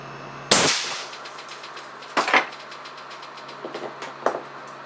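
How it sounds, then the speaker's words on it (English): An air cannon at 300 psi fires an 80 grain glass marble from a .625 caliber barrel into a bathroom sink: one sharp, loud blast, then a few fainter clattering impacts and rattles nearby. "with an 80 grain glass marble caliber 625 barrel and about to fire at the bathroom sink"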